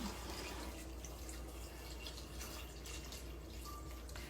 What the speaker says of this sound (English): And you're going to pour your chicken stock in.